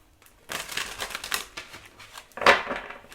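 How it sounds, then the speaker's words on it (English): A tarot deck is shuffled in a brief burst of crisp papery riffles and clicks, near and moderately loud, ending in a sharper snap. "One more shuffle."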